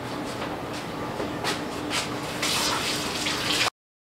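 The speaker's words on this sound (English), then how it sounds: "So I'll add another half a gallon of water to this one." Tap water gushes steadily into a container, adding half a gallon to dilute strong homemade kombucha, a continuous splashing rush that grows louder near the end and then cuts off abruptly.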